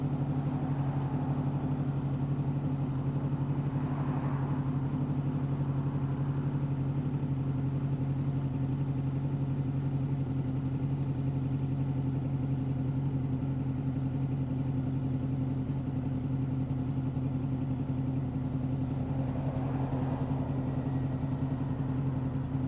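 A Honda VFR800 VTEC motorcycle engine idles steadily at 1200 RPM, a low, even hum with a constant throb that holds unchanged throughout, close by, with no voices.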